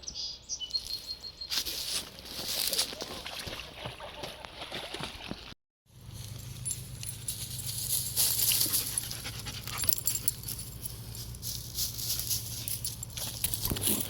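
A dog pants heavily up close while its paws patter around near water, with a brief break partway through and faint birds in the background.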